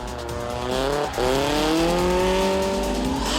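Drift cars in Drift Australia tandem battles, engines screaming at high revs with rising and falling pitch and a long tire squeal, loud and near with a brief dip mid-run.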